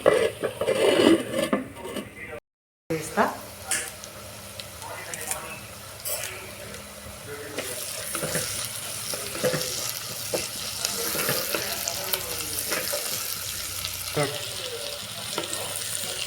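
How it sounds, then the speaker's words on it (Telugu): Onions frying and sizzling in a pan while being stirred, a steady close hiss with scraping and clinking of the spoon throughout, briefly cut by a short gap near the start. "ఉల్లిపాయలు మగ్గేంత వరకు ఇట్లా కలుపుకుంటూ ఉండాలి"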